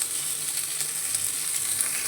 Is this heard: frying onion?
yes